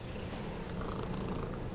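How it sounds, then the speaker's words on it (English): A house cat purrs in a steady, low, continuous rumble, close and faint, with no talking over it. "Are you a good cat?"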